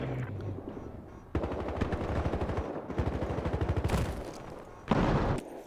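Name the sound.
armored truck heavy gun firing in video game Battlefield Hardline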